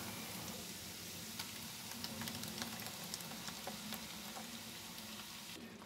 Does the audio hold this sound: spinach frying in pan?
yes